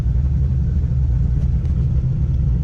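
A street-driven twin turbo C5 Corvette on the road, its engine giving off a loud, steady low rumble from start to finish with no voices over it.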